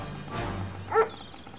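A single short dog bark or yip from a unit in the real-time strategy game Command & Conquer: Red Alert 3, brief and mid-level over a low steady game background hum.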